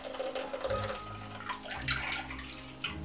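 Blended almond milk trickles and splashes through a strainer into a container, close and moderately loud, a continuous liquid pour with small drips, no talking.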